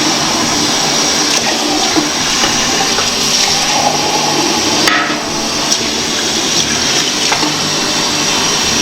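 Running water pours steadily into a medium-sized pot being filled for canning pint jars of pickles, a loud, continuous rushing fill with small knocks and no voices.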